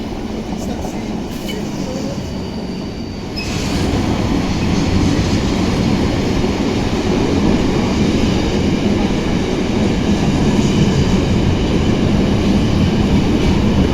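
Electric trains in Scotland rumble past nearby, a loud steady roar of wheels on rails with rhythmic clatter that grows stronger partway through and holds, alone without voices.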